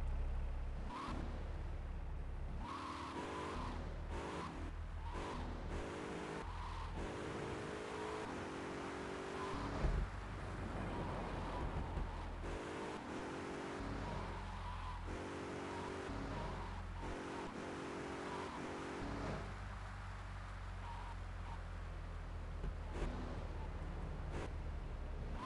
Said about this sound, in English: And watch the car, Joey just fixed this junk heap